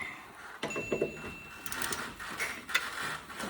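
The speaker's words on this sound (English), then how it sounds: "let's get those two Torx bolts out" Torx bolts being removed from the brake caliper of a Coolster 125cc ATV, with brief mechanical ratcheting and clicking bursts from a hand tool, close and fairly quiet.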